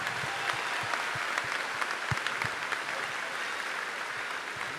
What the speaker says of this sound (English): Can we just give Morgan Bohr another round of applause?